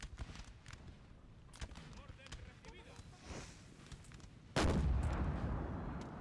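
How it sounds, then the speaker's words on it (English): Artillery cannon fire in the Napoleonic Total War 3 video game, a single loud booming blast near the end after scattered distant musket-like pops, with a commentator talking earlier. "This brave artillery crew just sitting here. Just fire."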